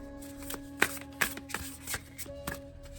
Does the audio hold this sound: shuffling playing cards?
yes